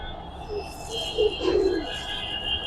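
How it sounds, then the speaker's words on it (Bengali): A large silver bagha pigeon cooing softly at close range, a few low throaty coos rising and falling over light room noise. "দেখেন কত সুন্দর একটা কবুতর"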